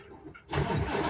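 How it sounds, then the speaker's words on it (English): A truck engine starts: a quiet buildup gives way to a sudden loud catch as the engine fires, then settles into a strong steady run close by. "I'm going to start the truck."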